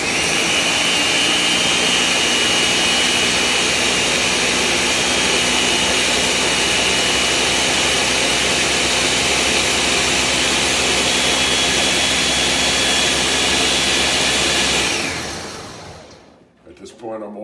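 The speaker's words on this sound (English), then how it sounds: "now it's going to get a little noisy because I'm going to blend it" A blender blending canned tomatoes runs at full speed with a loud, steady roar for about fifteen seconds, then winds down and stops.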